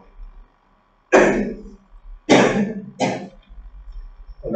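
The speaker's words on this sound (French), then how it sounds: "Tu peux tousser comme tu veux." Three loud, close coughs with throat clearing, each a harsh burst separated by short pauses, with faint rustling between them.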